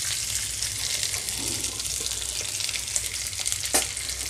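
Ivy gourd (tindora) pieces and curry leaves fry in a pan with a continuous close hiss and sizzle, a few faint stirring scrapes and a low background hum, with no talk.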